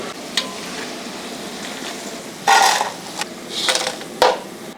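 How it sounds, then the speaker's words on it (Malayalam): Mango pieces fry in oil as part of a large 50 kg batch of Kerala-style enna manga pickle, giving a steady sizzle broken by a few louder bursts and clatters of stirring. "ഇപ്പം നമ്മൾ മാങ്ങ കംപ്ലീറ്റ് വറുത്തിട്ടുണ്ട്"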